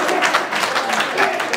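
Audience clapping at a Hindi comic poetry gathering, a dense, steady patter of many hands filling a short moment at close range, with no voice over it.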